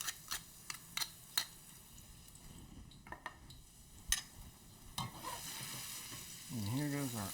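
Garlic sizzles in a frying pan for tomato pasta. A few sharp clicks and taps come first, then a soft, continuous crackling fry builds up close by.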